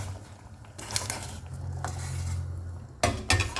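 Kusa squash and potato pieces are dropped into a pot of boiling carrots, giving a few close clattering, clinking thuds of food and utensil against the pot over a low, steady simmering rumble.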